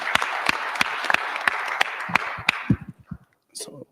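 Audience applause at an Altadena community town hall on the Eaton fire, held in a church: steady, moderately loud clapping with sharp individual claps, fading out toward the end before a voice begins.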